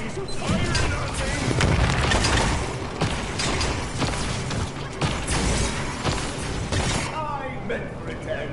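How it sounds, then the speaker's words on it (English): Enemy gunfire in the shooter game Paladins rattles in dense bursts of impacts and booms, loud and continuous amid busy combat effects, with voices speaking over it. "Enemies are firing on me"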